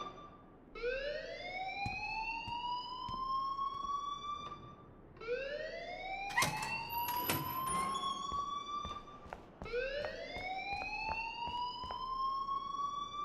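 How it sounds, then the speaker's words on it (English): An alarm in the Life Is Strange video game sounds in three rising, whooping sweeps, each climbing steadily before cutting off, with brief clicks and a louder burst in the middle, and no one talking. "please turn off that alarm since that's your job"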